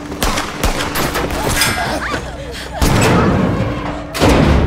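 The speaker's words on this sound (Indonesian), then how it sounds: "anak buah Darlie muncul dan mulai menembaki mereka. Peluru berterbangan" Gunfire in a film scene with bullets flying, loud bursts of shots and heavy thuds cracking repeatedly over several seconds amid chaotic action noise and shouting voices.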